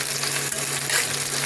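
Onion, garlic and capsicum frying in a pan for chilli pasta, a steady close sizzle with faint stirring running the whole time and no voices.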